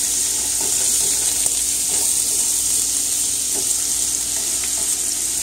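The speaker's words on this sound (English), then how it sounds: "And before the oil start burn, put in some garlic." Small garlic cloves sizzle and fry steadily in hot oil in a pan, a close, loud, continuous crackling hiss with no voices.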